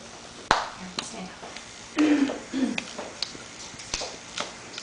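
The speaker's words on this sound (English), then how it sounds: "Everybody clap your hands." A group of people at a first birthday party claps hands: scattered, uneven claps and snaps rather than steady applause, with voices talking in between.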